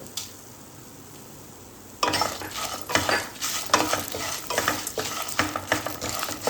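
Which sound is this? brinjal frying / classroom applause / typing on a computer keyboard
brinjal frying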